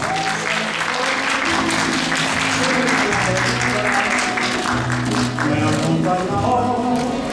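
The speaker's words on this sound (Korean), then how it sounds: "여러분 뜨거운 박수로 환영해 주시길 바랍니다" Warm, sustained applause from an audience as guests step onto the stage at a Korean TV variety show press event, a dense steady clatter of many hands holding loud throughout, with faint tonal music beneath.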